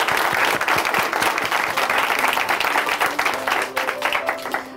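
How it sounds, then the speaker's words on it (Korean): A church congregation claps in encouragement after a faith testimony, loud and sustained applause with individual claps audible near the end. "함께 박수로 응원해 드리겠습니다."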